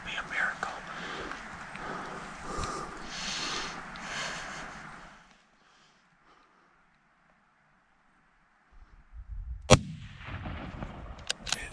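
Long-range rifle shot while hunting in Wyoming, a single sharp, loud crack that comes after a quiet pause and follows windy whispered talk, with movement and muffled sound after it.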